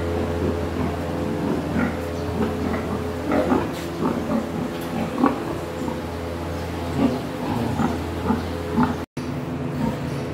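Pigs on a hot Philippine farm oink and grunt repeatedly in short irregular bursts over a constant low mechanical hum, several animals close by, with no talk.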